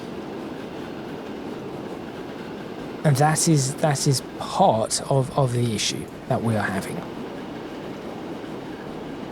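Trains running in the simulation game Transport Fever 2 produce a steady low rumble of rail traffic throughout, with someone talking over it partway through.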